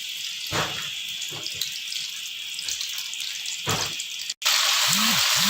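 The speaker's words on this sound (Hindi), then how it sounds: "इस तरह हम एक एक करके तमाम पीसों को डालकर और लाइट फ्राई करेंगे।" Pieces of fish going one by one into hot oil for a light fry, giving a steady hissing sizzle with brief louder bursts as each piece drops in, plus a short clatter near the end.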